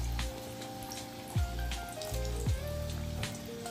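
Vada dumplings deep-fry in hot oil with a steady, dense crackle and patter of bubbling, broken by a couple of brief splashy pops as the pieces shift, close and continuous.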